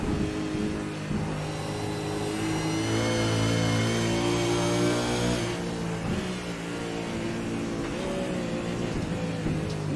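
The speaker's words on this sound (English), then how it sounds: "I think Ant got quite a handful of wheel spin there" Simulated Supercars racing engines in iRacing at Bathurst, several cars close together revving hard with a surge of high-pitched engine noise and wheel spin, loud and continuous.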